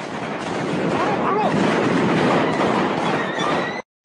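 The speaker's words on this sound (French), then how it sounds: "des coups de feu éclatent." Gunfire rings out on the Champs-Élysées in Paris at night, a dense broadband burst of sharp cracks and chaotic noise amid crowd and street sound, loud and sustained before cutting off abruptly.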